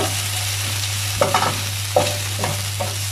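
A utensil scrapes across a frying pan during home cooking of a squash bourguignon: four short, rough scraping strokes at irregular intervals over a steady low hum.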